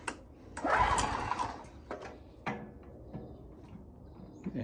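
A free portable generator engine sputters as someone tries to start it on choke, with one short burst of running that fades, then scattered clicks and brief coughs.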